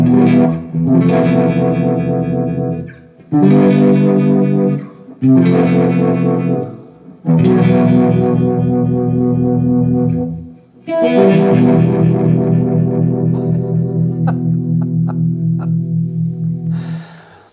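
Electric guitar through a Uni-Vibe pedal with all controls at noon, guitar volume around halfway, loud distorted chords strummed in bursts with a pulsing, swirling modulation and a long final ring-out.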